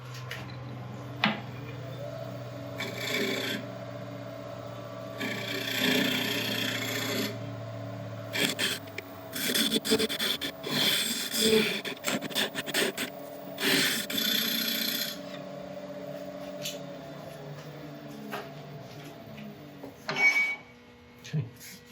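A woodturning tool scrapes and rasps inside a wooden bowl spinning on a lathe, intermittent cuts over a steady motor hum, louder rough bursts in the middle, with a few quiet gaps.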